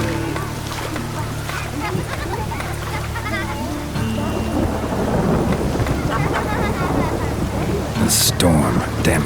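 A thunderstorm with rain in The Witcher 3 video game, a steady rain hiss and low rumbling under a character's voice, with a sharp crack near the end.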